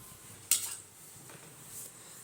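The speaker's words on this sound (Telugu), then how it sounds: "వీటిని మటన్ కలిపి చూపిస్తున్నా" A spoon clinks and scrapes against a metal bowl while spices are mixed into raw mutton for biryani, one sharp clatter followed by softer scraping, close and fairly quiet.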